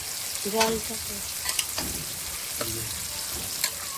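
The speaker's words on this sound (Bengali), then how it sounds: "ভালো করে এটাকে কষাবো যতক্ষণ এটা থেকে তেল ছাড়ছে" Spices for a mutton dish are cooked down in oil with steady, even frying and sizzling, punctuated by a few clinks of stirring and a faint voice in the background.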